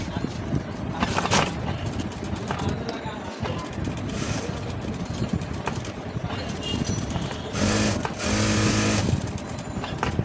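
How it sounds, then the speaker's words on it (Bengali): A sewing machine stitches a blouse in rapid, steady runs with brief pauses, loud and close, a louder burst near the end. "এরপরে সুন্দর করে সেলাই করতে হবে।"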